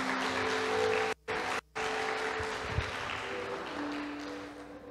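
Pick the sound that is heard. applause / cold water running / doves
applause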